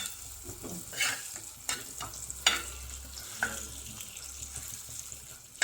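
Fish frying in oil on a flat griddle used for bhakri, a steady close sizzle with scattered pops and spatters, no voices.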